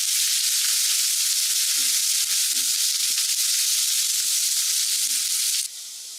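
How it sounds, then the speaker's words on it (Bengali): Onions sizzling steadily in a hot pan for a Lau special recipe, a continuous bright frying hiss with a few soft stirring clunks, close and moderately loud, then the sizzle drops slightly near the end. "দিয়ে ভালো করে ভেজে নিতে হবে পেঁয়াজটাকে।"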